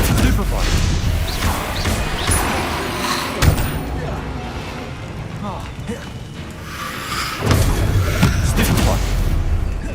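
Stupefy spell impacts in Hogwarts Legacy combat come as sharp thuds and crashes amid busy mechanical clatter, with a strong hit near the middle and another heavy burst later, while a voice speaks.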